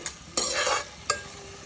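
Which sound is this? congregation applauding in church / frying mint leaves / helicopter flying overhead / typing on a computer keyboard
frying mint leaves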